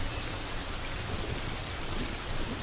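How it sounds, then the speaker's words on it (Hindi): Rain falling on dry grass in the Serengeti, a dense, steady hiss of drops pattering close and loud throughout. "सूखी घास पर पानी की बूंदें पड़नी शुरू हो गई हैं।"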